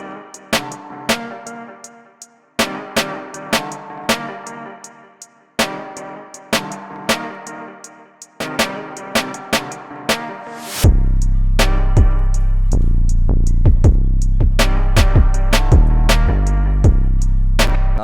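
A guitar sample chopped by a sidechain gate keyed to the snare plays in short rhythmic stabs for about ten seconds, then a full beat with heavy bass enters and the gated guitar continues over it.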